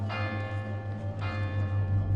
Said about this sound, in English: I hear the tiny bell of the cathedral ringing insistently.